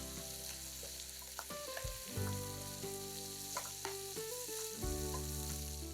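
Liver seasoned with salt and ground black pepper sizzles steadily in a frying pan while being stirred, with scraping and clinking of the utensil over the constant frying crackle.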